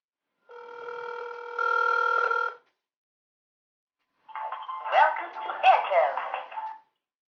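An outgoing call on a Samsung Galaxy phone set to speakerphone gives a steady electronic ringback tone, then a pause, then a second burst of ringing mixed with speech-like sound, loud and close.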